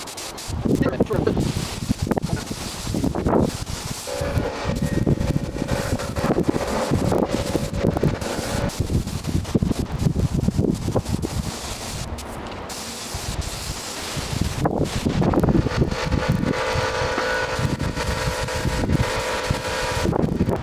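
Strong, gusty wind outdoors in 40 mph conditions, a loud, continuous roar and buffeting on the microphone with hissing rustle throughout, surging and easing briefly midway.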